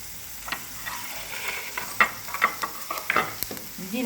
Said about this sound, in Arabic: ديريها في المقله، ديري لها شويه زيت وديري تقليها، خليها تنقلى كيما هكا